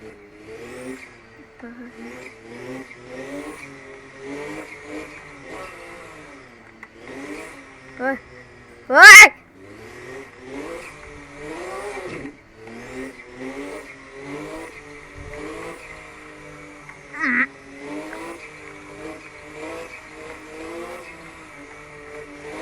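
A Porsche engine in the racing game Assetto Corsa, driven on the Akina mountain road, revs up and down repeatedly through gear changes, heard steadily under someone talking throughout.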